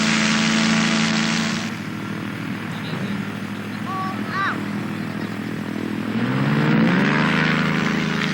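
A powered trike aircraft engine drones steadily and loudly during an aero tow launch in Africa. The pitch shifts as it runs, and a faint voice can be heard beneath it.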